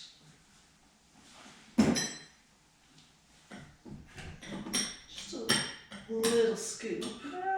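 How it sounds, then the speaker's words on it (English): Ice cream is scooped into glasses for an eggnog cocktail, with a sharp clink of glass early on followed by a run of scraping, tapping and clinking from the scoop against the glassware, close and moderately loud. "let's get a small scoop of ice cream in each of these"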